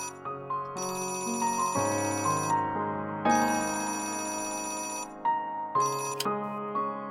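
A mobile phone ringtone plays a repeating electronic melody of bright, bell-like tones, loud and close, for several seconds with brief gaps between phrases and no voices over it.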